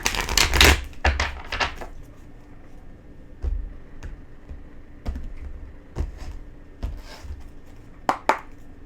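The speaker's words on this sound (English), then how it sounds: "One more shuffle here." Tarot cards give sharp papery flicks and soft taps in uneven bursts as they are shuffled and squared, close and fairly quiet with pauses between.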